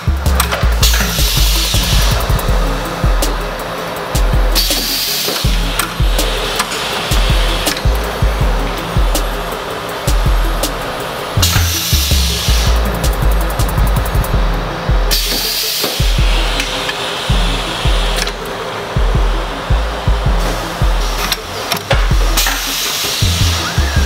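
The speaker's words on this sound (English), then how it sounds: "Let's do a test print and use our flattening screen and see how well it does." An automatic screen printing press runs a test print on a shirt back using a flattening screen, giving loud repeated mechanical thumps and whirring cycles, with bursts of hissing air every few seconds.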